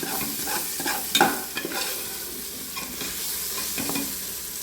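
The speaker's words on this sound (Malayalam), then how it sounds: "പച്ചമണം മാറുന്നിടം വരെ ഇതൊന്ന് വഴറ്റി കൊണ്ടുവരാം" Garlic, ginger and green chillies sautéing in a pan for beef biryani, a steady sizzle close by with occasional spoon scrapes and stirring clinks, no voices.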